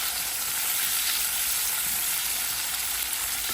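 Zucchini frying in a pan with a little added water, a loud, steady, close hiss of sizzling that continues without letup and no talking.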